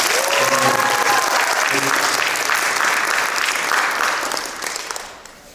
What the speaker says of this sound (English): Give Ms. Honorable Judge Talim a big round of applause and welcome.